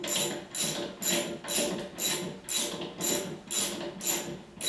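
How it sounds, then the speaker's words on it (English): Hand-turned rundown adapter seating a HYTORC Smart Stud, a steady series of about eight rhythmic ratcheting clicks at close range, each burst evenly spaced and fairly quiet. "we'll just run it down and seat the Smart Stud by hand"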